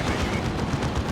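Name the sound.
Stormblade plasma overcharge blast in the video game Dawn of War 2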